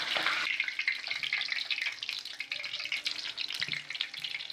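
Chicken pieces for desi pakora frying in very hot oil, a continuous bright crackle and hiss close by, fairly soft and uneven, with no talking.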